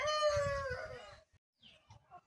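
A young Aseel hen on a farm lets out a loud, drawn-out call lasting about a second, then goes quiet before a few soft, close clucks follow.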